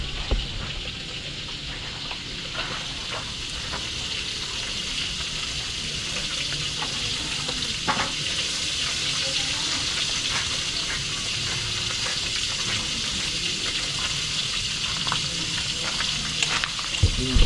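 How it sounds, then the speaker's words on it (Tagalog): Steady sizzling and crackling of food frying in hot oil, with occasional clinks and stirring sounds, constant throughout. "Ito prito pa tayo."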